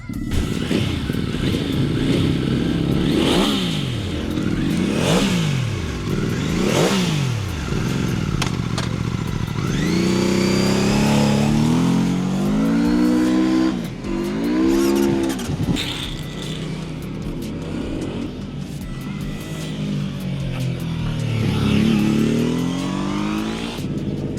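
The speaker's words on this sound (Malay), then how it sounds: "So sekarang kita nak merasa pula bawa motor ni pusing kilang benda." A Benda Dark Flag 950 V4 motorcycle engine roars continuously while riding around a factory, revving up and down through the gears with rising and falling pitch, loud and close throughout.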